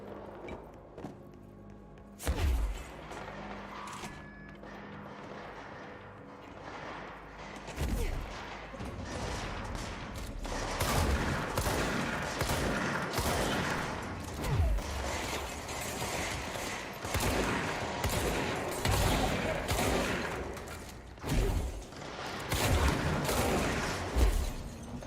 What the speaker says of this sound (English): I hear shooting.